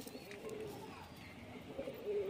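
A male high-flying pigeon coos softly and close by, with low murmuring coos that rise near the end over faint background noise.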